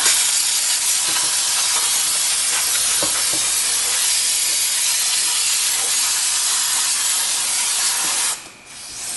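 Brake cleaner sprays continuously and loudly onto the debris-covered drum brake assembly of a 2001-2007 Ford Taurus, a harsh steady hiss lasting about eight seconds before cutting off abruptly.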